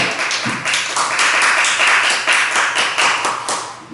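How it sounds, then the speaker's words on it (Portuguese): A church congregation claps in praise at the close of a service, loud, fairly rhythmic clapping in repeated bursts that fills the room, with no talk over it. "Pode aplaudir o Senhor, que merece toda a honra e toda a glória"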